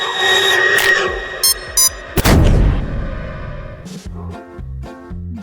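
A sudden loud blast bursts out after a few short electronic beeps and a countdown as a suitcase's glass explodes, its rumble decaying over a second or two before a rhythmic electronic tune resumes.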